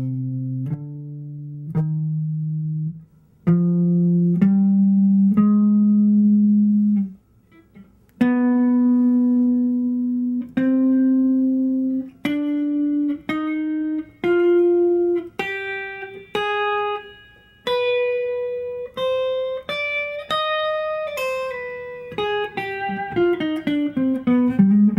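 Electric guitar picks out a harmonic minor scale in clean single notes, starting low and climbing steadily higher before a quick descending run at the end, played alone with a sustained tone.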